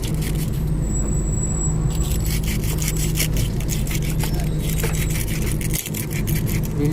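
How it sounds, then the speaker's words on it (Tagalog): Sandpaper rubs rust off a metal car part in steady, continuous strokes, a close, dense scraping hiss that runs the whole time with hardly a pause. "Lilihain ng maayos yan mga bay para matanggal yung kalawang"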